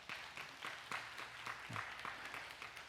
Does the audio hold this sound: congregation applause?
yes